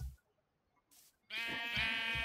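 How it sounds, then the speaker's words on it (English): Sheep bleat in a farm video game, several overlapping harmonic bleats crowding in after a short lull, fairly loud and close, with no talking. "there's sheep everywhere."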